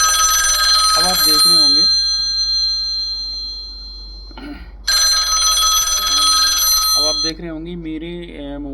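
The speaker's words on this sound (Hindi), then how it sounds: "मेरे मोबाइल पर फिर से रिंग बज रही है।" A mobile phone rings loudly with a random duty alert in repeated electronic bursts, cut by pauses, while someone speaks Hindi between and over the rings.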